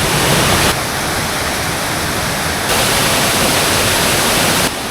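Steady, loud rush of falling water at the sixth tier of Krok I Dok waterfall, a dense broadband roar that holds constant throughout with no other sounds.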